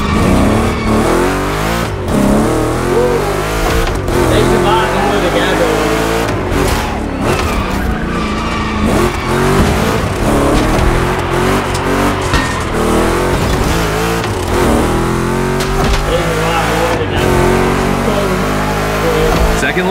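A car in The Crew Motorfest racing game skids hard under the handbrake, tires squealing over a steady, loud roar of engine revving that runs throughout.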